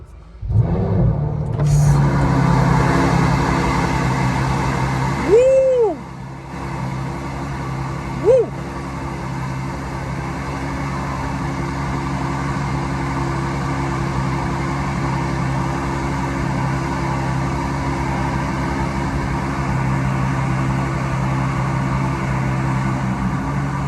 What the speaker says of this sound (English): I will turn this car on. So I'm going to put my foot on the brake and just press start basically.